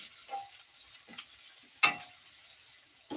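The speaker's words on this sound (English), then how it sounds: "I'm going to stir these a bit." Food frying in a pan on a grill over lowered heat, a soft steady sizzle broken by a few distinct scraping stirs and clinks of a utensil against the pan, close and quiet with no talk.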